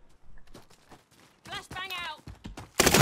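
Gunfire in a shooter video game, an enemy firing at the player, comes as rapid clattering bursts among game noise, ending in a loud close blast.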